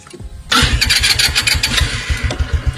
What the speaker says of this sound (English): The first one would be an electric start system that you have right here.